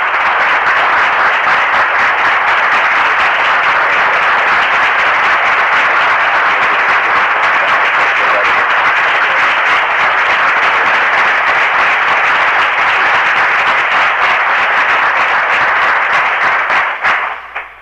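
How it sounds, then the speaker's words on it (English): A hall audience gives a warm, sustained round of applause welcoming Minister John Muhammad in 1983, loud and unbroken for nearly eighteen seconds before it quickly dies away. "Let's bring him on with a warm round of applause"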